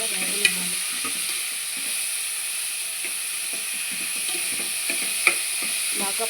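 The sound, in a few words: onions, mushrooms and capsicum frying in a pan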